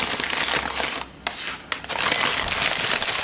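A brown paper takeout bag holding hot chicken broccoli Alfredo is crinkled and crushed while handled, giving loud, close rustling bursts with a brief quieter pause in the middle.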